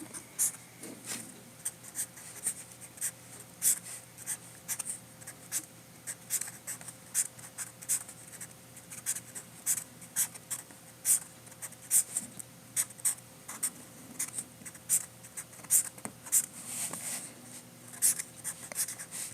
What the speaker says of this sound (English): And you basically, and it won't smear because I'm just doing it with pencil.